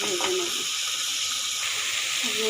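Pointed gourd (potol) pieces frying with turmeric and spices in a hot pan, giving a steady bright hissing sizzle that runs continuously and close, with faint background hum.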